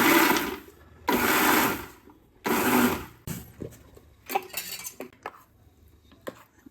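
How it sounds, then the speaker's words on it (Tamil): A mixer grinder grinds chutney in three loud whirring bursts, each lasting about a second, with short pauses between. Clattering jar and utensil knocks follow afterward. "அதெல்லாம் சட்னி அரைச்சி வந்துடலாம்."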